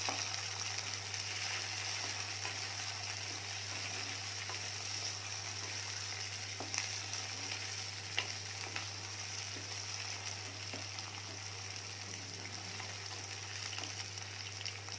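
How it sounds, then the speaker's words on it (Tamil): Chopped tomatoes sautéing in a pan of oil for a spicy brinjal gravy, giving a steady, close, even sizzle and crackle throughout with a few light stirring clicks and no talking. "இப்போ இந்த தக்காளியும் நல்லா வதங்கட்டும்."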